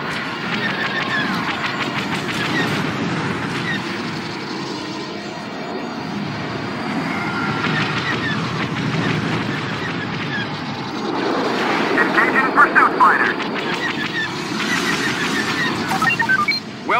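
Starfighters from Star Wars Battlefront 2 roar past in a sustained engine drone that swells and fades, with busy laser-like crackles and bursts layered over the continuous whine throughout.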